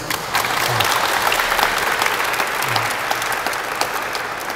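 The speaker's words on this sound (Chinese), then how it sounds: "是不是大家可以给我们海科馆一个掌声？" An audience at a ceremony for a marine science museum in Taipei bursts into sustained applause, a thick, even clatter of many hands that stays loud from start to finish.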